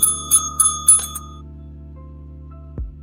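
A bicycle bell rings four quick times in succession near the start, then fades out, leaving a low steady hum with a brief thump near the end.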